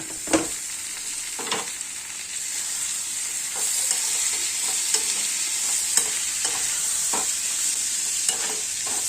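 Green chillies, tomatoes and garlic sauté in a pan with a continuous bright sizzle, broken by periodic spatula stirs and scrapes close by, with no voices.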